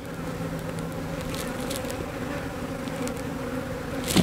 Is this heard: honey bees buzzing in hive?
yes